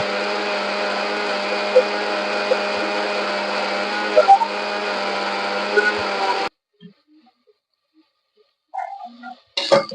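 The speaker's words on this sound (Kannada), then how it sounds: "ಸ್ವಲ್ಪ ನೀರ್ ಹಾಕೊಂಡು ರುಬ್ಬೋಣ" An electric mixer grinder grinds masala with water, giving a loud steady whirring motor drone for about six seconds. It then cuts off abruptly, leaving near silence broken by a few brief clinks and knocks.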